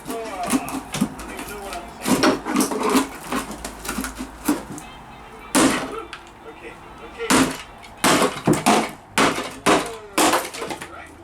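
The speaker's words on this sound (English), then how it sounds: "Even though you smash it with a hammer, it breaks." A hammer smashes a loudspeaker in repeated sharp, loud blows and crunching impacts, spaced irregularly, with people talking in between.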